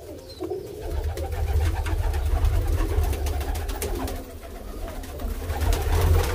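Teddy pigeons cooing in a breeding loft, continuous low throaty coos from several birds overlapping close by, with faint rustling and background noise throughout.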